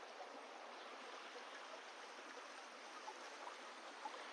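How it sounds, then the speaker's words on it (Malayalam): Water in a small stream flows steadily with a soft, even rushing, faint and unbroken throughout. "നമ്മുടെ തോട് കണ്ടോ"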